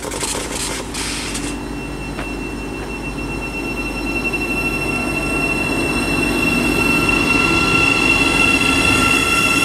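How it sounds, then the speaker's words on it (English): A Thameslink Class 700 train runs through Harlington station on the Midland Main Line, a few sharp clicks at first, then a steadily building roar of wheels with high squealing tones from the rails, close and loud. "apart now is the 1304 Thameslink service to Brighton"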